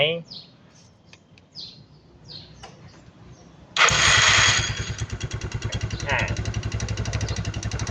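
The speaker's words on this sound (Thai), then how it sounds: "เครื่องยนต์สตาร์ทติดนะ" Quiet outdoor ambience with birds chirping, then a Yamaha Mio 115 motor scooter engine abruptly starts and settles into a loud, steady idle close by.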